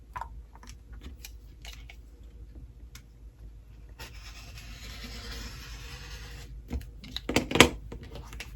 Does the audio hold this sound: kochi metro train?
no